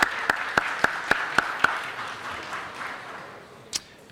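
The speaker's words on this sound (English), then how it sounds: "If we could please give them a round of applause" At a city council meeting, a handful of sharp, evenly spaced claps ring out over a soft wash of applause, which thins and fades, ending with one last isolated clap.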